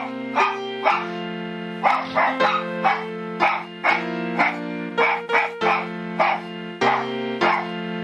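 Several dogs bark in a lively, repeated chorus of barks and yips, loud and close, with short bursts coming in a steady irregular rhythm throughout and no talking.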